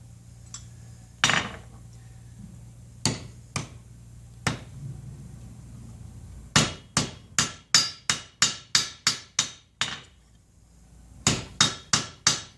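A hammer strikes silver ring stock during hand forging, sharp metallic blows that start spaced apart and then come in a quick steady run of about a dozen, with a brief pause before a final short burst.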